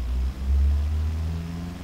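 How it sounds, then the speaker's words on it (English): A car engine revs on a dyno in the Automation game, a steady low rumble with a brief dip and then a swell in loudness before settling. "Let's run the engine again."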